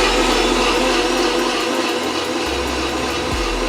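A Vitamix blender on its smoothie setting, powered from a Bluetti lithium solar power station, roars with a loud, steady whir throughout. A low motor hum shifts in pitch near the end.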